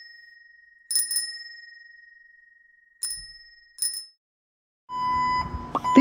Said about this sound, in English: This is a bicycle.